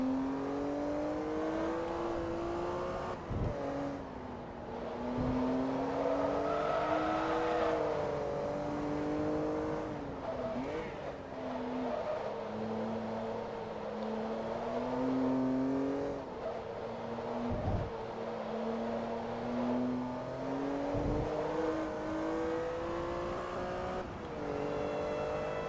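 Engine of an Italian car in Forza Motorsport 2 revving and droning steadily, pitch climbing and falling with gear shifts, loud and continuous for the whole stretch with a few brief dips.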